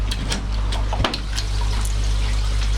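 Water running steadily into a koi pond during a top-up after a water change, a continuous close trickling wash with a brief louder splash near the middle.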